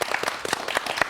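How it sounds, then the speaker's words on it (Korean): Brief burst of audience applause at the close of a televised Korean science talk-show segment on virtual reality, many hands clapping steadily at moderate volume with no talk over it. "박수 감사합니다."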